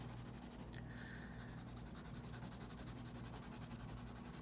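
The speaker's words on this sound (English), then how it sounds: "I'm using the side of my pencil crayon" Side of a pencil crayon shading a road drawing on paper, a steady, continuous soft scratchy rasp close up with faint background hum and no talk.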